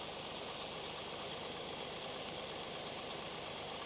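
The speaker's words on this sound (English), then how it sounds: "Now the engine is running" A car engine idles with a faint, steady, even hum and no talking.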